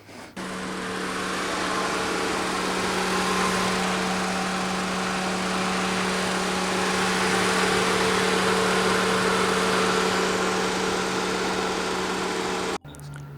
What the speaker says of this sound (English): Okay, so the car runs great.